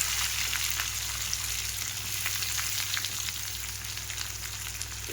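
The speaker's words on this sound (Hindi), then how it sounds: "मैं तेल हो चुका है गरम, जीरा डाल दिया है मैंने। और जीरे को होने देते हैं" Cumin seeds sizzling in hot oil in a pan, a dense, even crackle and fizz heard close and continuous throughout, with no voices.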